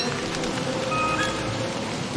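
Steady rain patters continuously in the video game Don't Starve Together, a dense, even hiss of drops with faint game tones layered over it.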